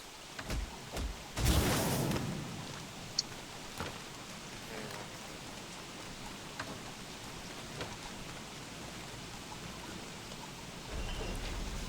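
Steady rain pours down in the survival game Don't Starve Together, a constant close hiss of falling water with a few brief louder bursts and clicks early on.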